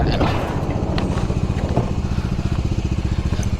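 A motorbike that won't shift into neutral idles close by, its engine chugging in a fast, even rhythm of low pulses, with a voice talking over it.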